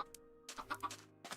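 A Minecraft chicken clucks in short, soft bursts. The clucks are faint and close, with a brief pause between them and nobody speaking.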